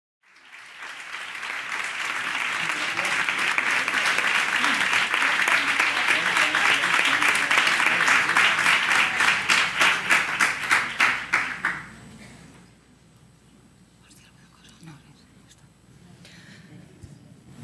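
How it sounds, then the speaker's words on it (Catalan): An audience in a hall applauds the actors of a restorative justice circle performance, a dense, steady wash of clapping that swells, holds for about ten seconds, then thins into scattered claps and fades to quiet room tone. "aquest aplaudiment va pels actors que estan aquí a la sala"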